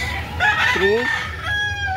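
A rooster crows and clucks amid the bustle of a gamefowl market at Carbon, Cebu, its harmonic calls rising over steady crowd noise with other birds faintly in the background.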